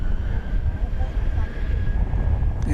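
A jet airliner departs DFW Airport at night on a flight to Corpus Christi. A steady, low broadband roar holds evenly throughout at a moderate distance, with a faint voice-like murmur underneath.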